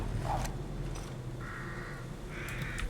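Crows caw in the horror video game The Evil Within, several harsh calls at moderate distance over a low ambient drone, with no speech.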